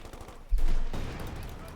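Gunfire from the video game Company of Heroes 2 bursts out mid-clip, a sharp blast followed by rattling shots under a commentator's voice.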